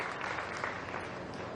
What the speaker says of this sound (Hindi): ताली बजा के इनका स्वागत करें